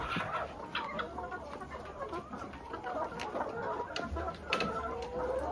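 Hens cluck softly and intermittently inside a backyard chicken coop, fairly faint against steady background noise, with no talk.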